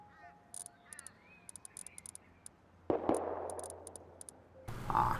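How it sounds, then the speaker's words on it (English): Sharp bursts of gunfire in the video game Rust crack in quick clusters, one louder blast followed by a wash of noise, under faint game-like background tones. "I hear gunfire."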